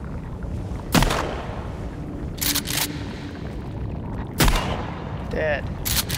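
Gunshots in Sons of the Forest: single heavy shots spaced a few seconds apart, loud and booming, over a rumbling game background with scattered other effects.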